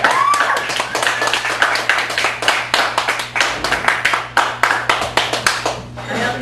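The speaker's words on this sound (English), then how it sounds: "I really want the loudest applause known to mankind for Daniel." An audience at a poetry open mike night claps steadily for a newcomer, a fairly close, moderate round of individual hand claps with a quick, uneven rhythm that thins out near the end.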